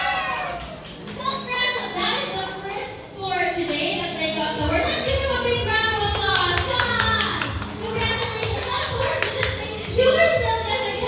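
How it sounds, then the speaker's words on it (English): Clapping from a lively audience at a children's slime-dunk event, steady and fairly loud, mixed with children's shouts and chatter throughout. "Let's give them a big round of applause."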